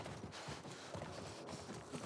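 Horse hooves clopping in The Last of Us on PS5, a fast, dense run of hoofbeats close up under loud chaotic game noise, with no clear talk.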